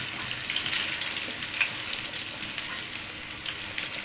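Coriander leaf pakoras frying in hot oil give a steady, close crackling sizzle with a few sharper pops, heard alone without any talk.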